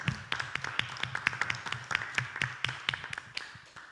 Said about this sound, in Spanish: quiero pedirle un aplauso aquí a mis compañeros para nuestro concejal